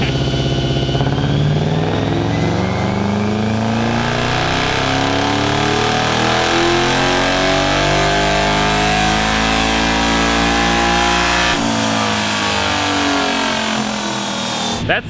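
A 1UZ-swapped mini-truck engine revs hard on a dyno, a loud sustained roar that climbs steadily in pitch for about eleven seconds before easing off, with background talk in places.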